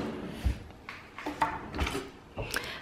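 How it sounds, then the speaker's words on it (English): Soft-close kitchen drawers in a home kitchen slide and settle with several soft, muffled thumps and rolling rumbles spaced roughly half a second apart, fairly quiet and close. "I love these drawers because they're the soft touch"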